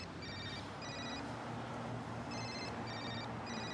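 A telephone rings in a domestic scene from a melodrama, its electronic ring sounding in repeated short bursts over a steady background hum, with no talk.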